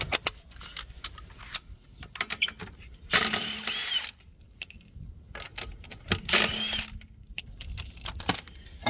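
A ratchet wrench working on a wheel of an Infiniti G35 at a roadside, with bursts of ratcheting and metallic clinks and rattles, two louder spells of rapid clicking amid scattered knocks.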